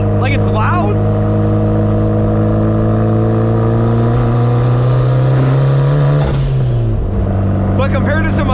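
A built turbocharged Mazda Miata of about 400 horsepower drones loudly from inside the cabin while driving on the street, a steady low exhaust hum shifting pitch as revs change, with someone talking over it.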